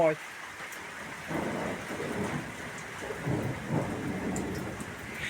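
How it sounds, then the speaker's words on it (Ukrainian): Low thunder rumbles in the distance over steady rain falling on leaves and grass, a soft continuous patter with rolling swells of rumble, quiet and unhurried. "Щось він гримить десь далі, далі."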